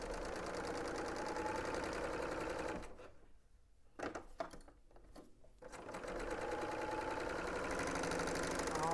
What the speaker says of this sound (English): now I am stitching down the shoulder seams